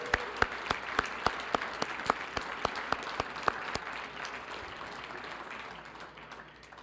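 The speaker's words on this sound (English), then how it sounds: "Let's give a round of applause to our sponsor." A room audience applauds sponsors at a Special Olympics New Mexico Law Enforcement Torch Run event. Distinct sharp claps ring out at first over a broad wash of clapping, then the sound thins and fades away.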